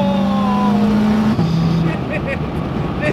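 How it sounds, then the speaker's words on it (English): A 500 hp Stage 4 big-turbo VW Mk6 Golf R accelerates hard toward a freeway on-ramp, its engine note climbing steeply through a gear before a quick shift, loud and close from inside the car. "This car is insanely quick!"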